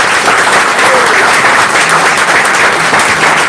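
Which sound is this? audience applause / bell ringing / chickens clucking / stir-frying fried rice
audience applause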